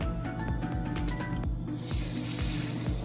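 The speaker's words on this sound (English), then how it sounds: "So I'm gonna start frying." Pholourie dough frying in hot oil gives a continuous bubbling sizzle close by, with rhythmic low thumps throughout and the hiss brightening in the second half.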